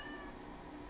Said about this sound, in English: I don't know if you guys can hear the cat in the background.